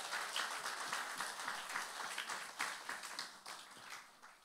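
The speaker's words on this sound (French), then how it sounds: "Est-ce qu'on peut juste applaudir le Seigneur si vous le croyez vraiment ?" Church congregation applauding during a sermon, a steady, faint wash of many hands clapping together, somewhat distant, with no voices.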